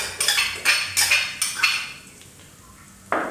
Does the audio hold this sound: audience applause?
no